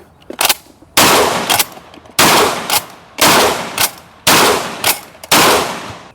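Çelik Arms Buck Master Gen 2 M shotgun firing buckshot during a hot 1000-round torture test, five loud blasts in a steady rhythm roughly a second apart, each with a short ringing tail, preceded by a couple of quick mechanical clacks.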